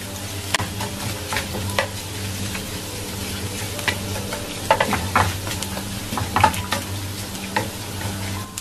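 Garlic and ginger sizzle and fry in hot oil in a pan for a Kerala prawn stir-fry, a steady crackling hiss with occasional sharp spatters and stirring clinks, close and alone without speech.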